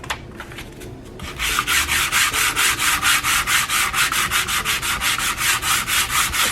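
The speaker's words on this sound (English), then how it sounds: "I'm going to give it a light sanding" Hand sanding of a painted wooden farmhouse sign, a steady run of rhythmic back-and-forth rasping strokes, close and loud, starting after a quieter second or so.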